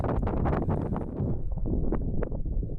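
Strong, steady wind buffets the microphone near a mountain summit on the Cape Wrath Trail in the Scottish Highlands, a continuous low roar with gusty swells that eases slightly toward the end, with no talk.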